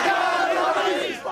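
A large, agitated crowd of Mubarak supporters in Cairo shouts in unison during Egypt's days of anger, a loud, dense roar of many voices chanting close by for a brief stretch.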